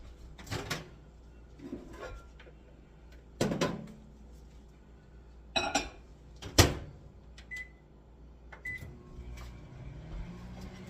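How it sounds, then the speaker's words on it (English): A microwave oven runs briefly to soften cream cheese, a low hum beneath several sharp clicks and thumps of the door and handling, with a couple of short beeps near the end, no speech. "I'm going to stick it in my microwave not very long, maybe 30 seconds"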